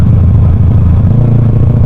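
A motorcycle fitted with a LeoVince aftermarket exhaust runs loud and close, a deep, throbbing low burble holding steady with a rough mechanical clatter on top.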